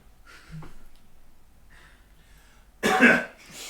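A single loud, harsh cough bursts out near the end after a stretch of quiet, faint background murmur.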